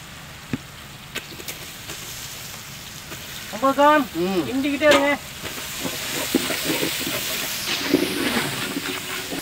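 Shallots, green chilli and crab fry in a pan with a steady hissing sizzle, while voices talk briefly over the cooking noise.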